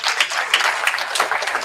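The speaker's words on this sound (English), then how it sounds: "Let's give another round of applause for our host" An audience at a candidate forum applauds steadily, a dense wash of many hands clapping at moderate loudness with no pauses.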